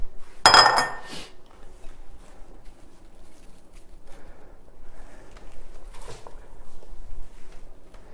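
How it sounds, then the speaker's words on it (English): Onions and other ingredients being tossed into a pan for a pasta dish with sausage and vegetables: one loud clattering clink up front, then quieter faint rattles and a soft sizzle-like background. "let's go ahead and throw in our ingredients"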